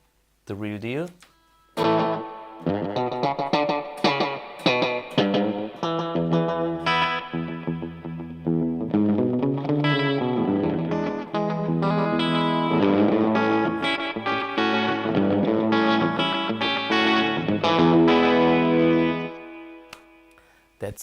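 Electric guitar through a real tape echo unit, notes and chords repeating in decaying delayed echoes with a slightly distorted tone, loud and sustained with no talk.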